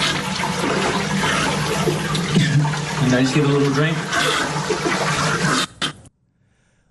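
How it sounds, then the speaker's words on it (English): A black cyclone-style toilet flushes with a loud, rushing swirl of water that churns steadily for several seconds before cutting off abruptly; someone talks over the flushing. "It's a black toilet bowl for some reason. It's one of those cyclone ones. As he flushes it, it swirls."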